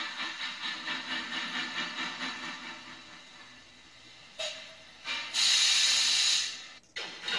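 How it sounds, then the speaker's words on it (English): Steam train sound effect played back through a small DFPlayer audio module: rhythmic chuffing pulses fading away, then sharp bursts of hissing steam, heard alone without talk. "If I press the button now, you'll hear train sounds"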